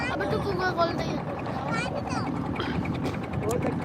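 A speedboat passes on the Titas river, its engine droning steadily beneath someone talking close by, with wind buffeting the microphone.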